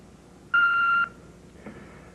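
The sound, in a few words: answering machine beep before message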